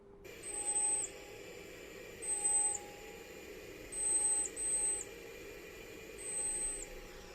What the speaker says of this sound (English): If we play a rhinolophus call, it sounds like this.